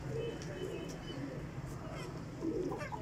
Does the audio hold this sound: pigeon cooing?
yes